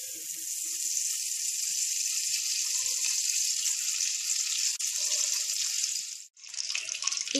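Steady bright sizzling of butter melting in a hot pan for a masala pasta, a continuous crackling hiss that dips briefly near the end and then resumes.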